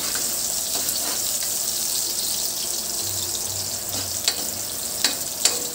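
Onion and garlic fry in a pan with a loud, steady crackling sizzle, close by, with a few sharp clicks from stirring toward the end.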